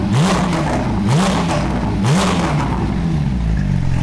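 Porsche 992 GT3 fitted with an Armytrix exhaust revs loudly in three sharp throttle blips about a second apart, each rising then falling, followed by a steady, droning higher rev that holds to the end.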